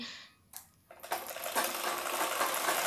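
A sewing machine stitches a blouse, starting with a few light clicks, then running into a steady, continuous mechanical whirr that holds until the end.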